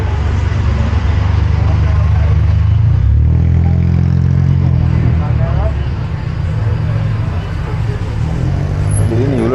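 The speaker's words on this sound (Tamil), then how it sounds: "திடீர்னு இவ்வளோ டிராஃபிக் ஆகுது இந்த ரோடு" Night traffic on a busy Bangkok street, with cars, motorbikes and buses rumbling close by in a loud, continuous wash of engines and passing vehicles.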